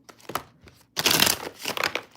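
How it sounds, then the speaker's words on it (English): Playing cards are shuffled by hand, a few short riffling and crinkling bursts with a longer flurry in the middle, close and crisp with brief pauses between. "Trying to get the card shuffled up good enough."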